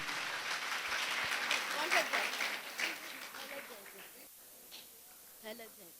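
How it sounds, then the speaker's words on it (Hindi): Students in a school gathering clap for two classmates. A brisk burst of applause with some voices in it tapers off over a few seconds, then a lone voice speaks in the quieter room. "ताली बजाओ एक बार फटाफट"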